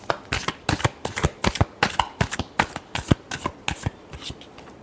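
A deck of tarot cards is shuffled during a reading: a steady run of sharp, rapid slaps and riffles, close and fairly loud, repeating for several seconds with no speech.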